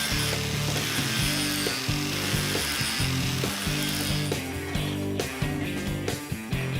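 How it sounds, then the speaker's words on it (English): Tools fasten down diamond plate on a homemade table, giving a continuous loud clatter of rhythmic ratcheting, mechanical clicks and buzzing power-tool noise throughout with no pauses. "he decides to start fastening down the diamond plate"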